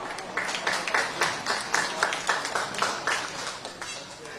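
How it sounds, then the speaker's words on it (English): Audience applause at a campaign rally in Flushing, New York, greeting the next speaker: a steady patter of clapping that swells and fades in soft waves, moderately near and without talk over it. "Let's give him a round of applause."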